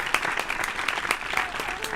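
Applause sound effect dropped into a podcast segment, a steady wash of many hands clapping at moderate level for the full two seconds, with faint voices underneath.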